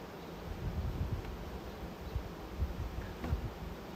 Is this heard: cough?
no